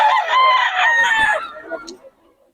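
Roosters crowing and clucking at a gamefowl seller's yard in Bulacan, with several overlapping crows up close, then softer clucks trailing off.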